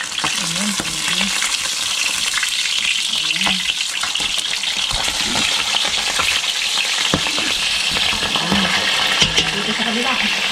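Raw rice is dry-roasted in a pan for rice coffee while it is stirred, with a loud, continuous rattling sizzle and repeated scraping from the spatula, and a voice occasionally murmuring nearby.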